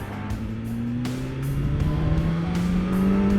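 Engine of a 2020 BMW S1000XR motorcycle revving hard on a city street, a loud close rising whine climbing in pitch through the gears, with short breaks at each shift.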